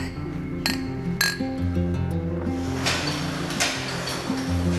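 Two bright clinks of glasses touching in a toast at a bourbon distillery and brewery, a quick pair close together, over a low hum of background voices and room noise.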